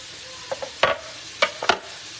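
Ground beef cooking in a pan for homestyle nachos: soft background sizzle broken by a few sharp stirring scrapes and clatters.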